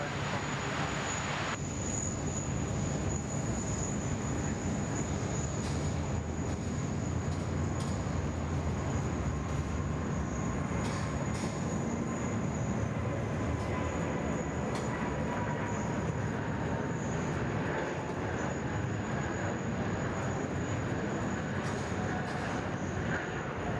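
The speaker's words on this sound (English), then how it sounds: "She's going to be nice and heavy, nice long takeoff roll." A heavy Korean Air Boeing 747 rolls down runway 34 left for takeoff at Sydney Airport, a steady, loud, continuous engine roar with broadband rumble holding throughout, faint voices now and then beneath it.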